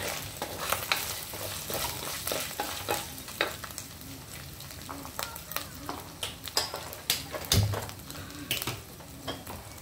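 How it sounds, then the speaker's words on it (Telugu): Spices for a chutney tempering fry in a small pan in a home kitchen, with a steady sizzle broken by repeated sharp scraping stirs and one louder clank near the end. "మీతో మాట్లాడుతూనే చట్నీ కూడా తాళింపు చేసేస్తా"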